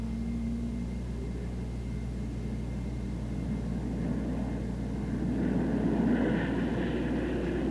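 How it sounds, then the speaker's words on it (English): Republic P-47 fighter bombers taking off from a runway make a steady low droning engine rumble that swells slightly toward the end, heard at a moderate distance with no voices. "Loaded fighter bombers marshal on the runway and take off."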